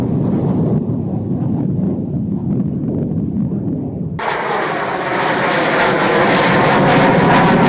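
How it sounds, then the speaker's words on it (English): Tornado GR4 jet climbing out of the Mach Loop, a loud sustained engine roar that swells and brightens sharply midway into a fuller, harsher blast as it pulls up and away. "GR4 just pulled out the Mach Loop, doing a climb flight of 140 for the Litchfield RTB"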